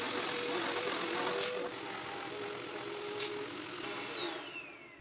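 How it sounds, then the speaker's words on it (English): A vacuum cleaner runs steadily during a room cleanup, a loud, constant high whine with broad airy hiss that holds for several seconds, then eases slightly toward the end. "I'm gonna vacuum this, move this stuff back"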